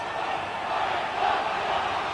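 Crowd at a 1993 England Emerging versus New Zealand rugby test match, a steady broad roar of cheering from a large distant stadium audience, with no breaks.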